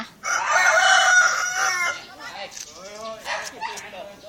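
A rooster crows once, loud and close, in a long rising and falling call. A voice follows, with a faint bark-like sound near the end.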